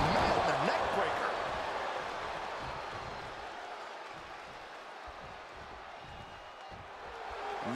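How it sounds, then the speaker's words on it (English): Crowd in the wrestling video game WWE 2K22 roaring, a steady, deafening wash of cheering and noise that holds throughout, dipping slightly mid-way and swelling again at the end. "The sound of this crowd is deafening, and he's asking for more"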